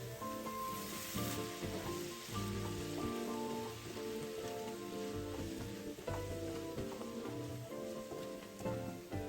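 Palm sugar pork belly sizzles and crackles steadily in a wok as soy sauce goes in, with bubbling oil and the scrape of a silicone spatula stirring throughout, loud and close with no talk.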